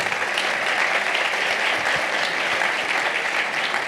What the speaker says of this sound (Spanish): muchas gracias, doctor Hernández. Un aplauso